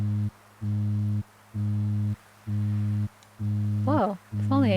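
A phone in the video game The Missing rings in a regular repeating pattern of steady electronic tones, five bursts evenly spaced, with a person's voice overlapping the last two rings.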